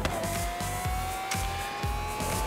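Engine of an off-road car driven in the racing game Forza Horizon 3, a steady loud drone with a rising tone and repeated low thumps as it bounces over rough ground, heard alone.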